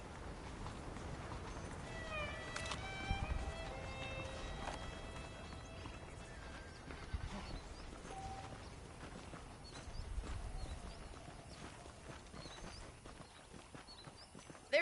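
Horse hooves clip-clop steadily beneath game ambience and occasional animal cries while riding in the video game Red Dead Redemption, a fairly quiet and continuous rhythm.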